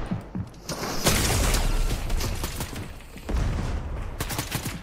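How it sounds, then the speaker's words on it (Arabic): Grenade explosions go off in a Fortnite match, two loud sustained bursts of booming and crackling blasts close together, filling most of the short stretch with brief quieter gaps between. "يا ابني كفايه بقى قنابل."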